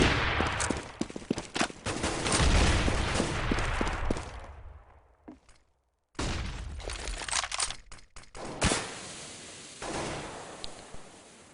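Rapid volleys of in-game rifle fire in a competitive team shooter match at The Blast 2013, loud clustered bursts that drop into near silence midway before sharp shots resume and fade.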